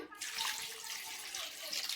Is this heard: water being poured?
yes